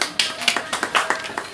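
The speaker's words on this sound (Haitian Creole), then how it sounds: "On applaudit Shaina." An audience applauds Shaina at a live community event, with sharp claps arriving in quick uneven bursts, close and fairly loud.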